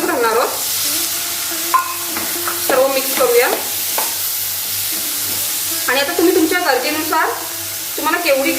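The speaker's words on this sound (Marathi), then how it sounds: "करंदी सुद्धा व्यवस्थित या मसाल्यांसोबत परतून घेऊया" Fresh baby prawns (karandi) stir-fried with spices in a pan on a high flame, a loud close sizzle with bursts of spatula scraping and tossing, broken by brief quieter pauses.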